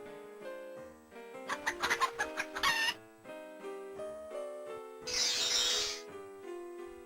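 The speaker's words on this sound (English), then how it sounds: "When it was time for Cinderella to feed the chickens" Chickens cluck in quick bursts and a short squawk in a barnyard over a gentle orchestral music bed, fairly faint and mixed under the tune.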